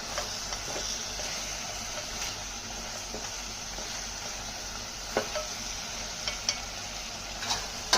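Chicken with masala powder fries in a pan, giving a steady, moderate sizzle throughout, with a few sharp clicks and scrapes from a spoon stirring the pieces.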